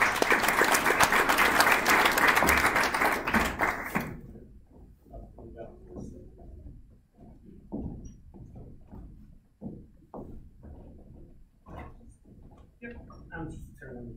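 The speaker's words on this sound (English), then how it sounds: "Give her a round of applause." Applause rings out for someone as she is called up, with loud dense clapping for about four seconds that stops abruptly. Close, soft microphone handling clicks and shuffling follow, and someone speaks briefly.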